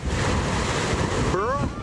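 Hurricane Beryl's ferocious winds and surf roar in a dense, loud, unbroken rush of wind noise and crashing water, with a brief voice at the end.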